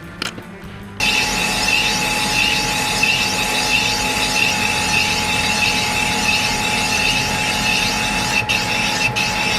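A boring bar cuts through the bore of a big-bore stroker engine cylinder, a steady, loud metallic machining whine with rasping texture that runs on without a break, and the cut briefly chatters as the tool crosses the intake port.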